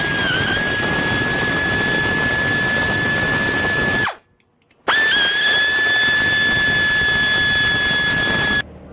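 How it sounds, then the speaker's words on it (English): A power tool loosening the 10mm camshaft bolts on a KTM 250SXF engine, a loud, steady high-pitched whine in two long runs broken by a brief silence. "Got to remove the 4 10mm bolts."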